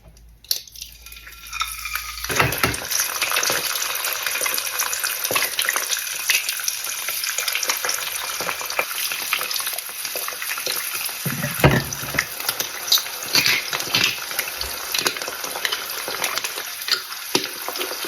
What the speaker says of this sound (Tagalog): Magprito naman tayo ng itlog.